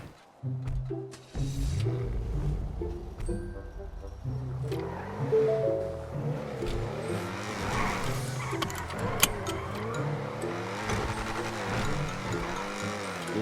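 Car engine in GTA V, roleplay server, revving and shifting up and down as the vehicle drives off, loud and close, with people talking throughout.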